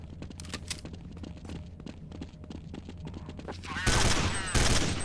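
Video game gunfire shooting through a wall: quiet, scattered shots and footsteps, then two loud, close bursts of rapid fire near the end, with no talking.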